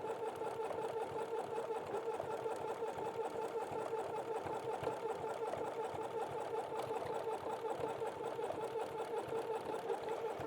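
A sewing machine runs steadily, stitching a zigzag around a pumpkin appliqué on a t-shirt, its even, rapid mechanical whir continuing without pause at moderate volume.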